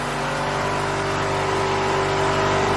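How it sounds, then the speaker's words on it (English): Honda B18 engine idling after new fuel injectors were fitted, a steady loud mechanical hum with even pulsing, close to the engine bay with no talk over it. "Injectors all sound like they're pulsing pretty good."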